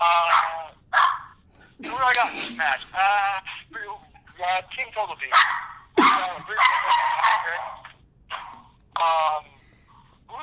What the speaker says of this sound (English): the dog heard the doorbell ring and he goes nuts.